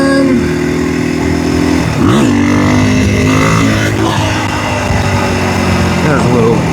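A KTM 500 motorcycle engine revs up and down during a small wheelie on a ride to work, loud and close, with wind rushing and someone talking over it.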